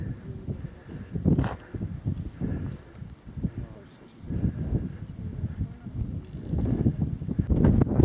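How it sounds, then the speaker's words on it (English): Strong wind buffets the microphone on an exposed mountain hilltop on a hill walk, with heavy low rumbling gusts that rise and fall unevenly throughout, loud and close. "I hope the wind isn't interfering too much. Pretty blowy up here."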